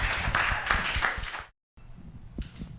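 Audience applause for Reverend Wiley at a gathering, steady clapping close by for about a second and a half before it cuts off, followed by a few faint scattered claps.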